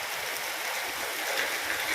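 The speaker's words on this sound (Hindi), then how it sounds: "बहुत ज़्यादा बारिश हो रहा है।" Heavy evening rain falling steadily in the town of Jhangra, West Midnapore, Bengal, with flooded fields nearby; a dense, continuous hiss with no pauses and no voices.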